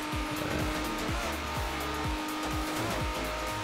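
Ferrari race car in the Forza Horizon 4 video game, engine droning steadily with repeated rising gear-shift sweeps and tire squeal, loud and continuous with no talk.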